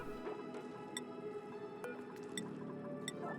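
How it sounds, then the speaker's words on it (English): Polluted water running and dripping inside the video game Oxygen Not Included, with scattered sharp drips and squishy splashes over a steady low-level trickle throughout. "where is this polluted water coming from? It's running all the way."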